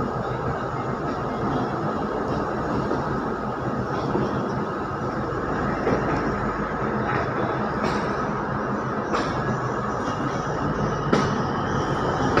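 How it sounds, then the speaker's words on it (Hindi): A Firozpur–Ludhiana DMU diesel train pulls away from a station platform, with a steady rolling rumble and occasional faint clicks of the wheels heard from on board. "ये हमारी ट्रेन ने दोस्तों अपना प्लेटफॉर्म नंबर 2 से डिपार्चर लिया है दोस्तों, फिरोजपुर लुधियाना DMU ट्रेन ने"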